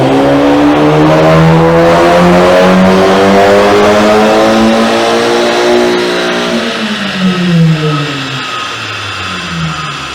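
A Mk2 Seat Leon Cupra with a Stage 1 remap revs hard on a dyno. The loud engine note climbs steadily in pitch, then sweeps down and back up near the end.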